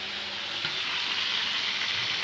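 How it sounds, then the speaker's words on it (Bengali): Beef pieces frying with turmeric and salt, a steady dense sizzle of meat in hot oil that holds constant and fairly close throughout, with faint stirring knocks and no talking. "রোস্টের আগে একটু হালকা হলুদ আর এবং লবণ দিয়ে ফ্রাই করবো।"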